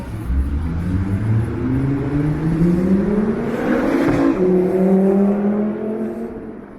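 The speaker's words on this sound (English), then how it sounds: "And I didn't get a look at that car, but it sounded like a supercar." A supercar speeds past on a city street in Toronto's Yorkville, its engine revving with rising and falling pitch through the gears, loud and close, sweeping by and fading.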